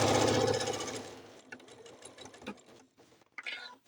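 A sewing machine stitches a quilted bowl cozy in a steady close whir that fades after the first second into softer, intermittent stitching and handling noises.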